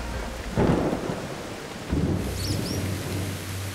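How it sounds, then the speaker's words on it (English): Heavy rain pours steadily while thunder rumbles in two deep rolls, close and full, over a river habitat in a city. "Rain, vital for life here, can turn threatening in an instant."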